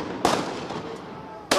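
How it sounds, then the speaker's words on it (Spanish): Gunshots fired at a street protest against pension reform in the Plaza de los Dos Congresos, Buenos Aires: two sharp, loud bangs about a second apart, the first followed by a ringing tail, with crowd noise beneath. "Ahí están los disparos."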